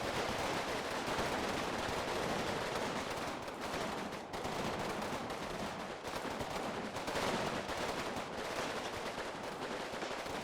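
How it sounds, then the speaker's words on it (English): Dense, continuous small-arms and machine-gun fire from an infantry squad in the World War II strategy game Combat Mission Final Blitzkrieg, a sustained crackling barrage at a steady, fairly quiet level without talk. "That's one of Lykas' squad shooting up towards that direction."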